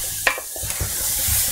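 Onions cooking in a pan with steam and their juices, giving a steady low frying hiss with a few stirring scrapes and clatters near the start, heard close and alone.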